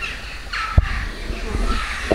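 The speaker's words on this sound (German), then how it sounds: "Krähen kommen von überall." Crows cawing from several directions outdoors, a few harsh caws spaced across a short stretch, moderately close over faint background noise.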